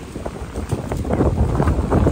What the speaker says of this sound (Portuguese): O vento é forte, ó.